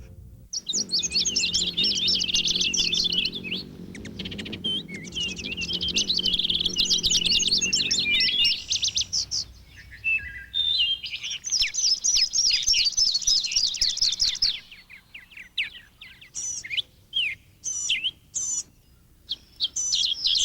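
Songbirds chirping and singing in bursts of bright, rapid trills, with a low murmur underneath at first, then sparser, separate tweets toward the end.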